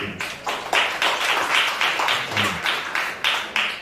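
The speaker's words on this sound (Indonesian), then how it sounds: "Tepuk tangan dulu." An audience at a university anniversary thanksgiving service claps in a steady, evenly spaced rhythm, about three claps a second, fairly loud and close with no talk over it.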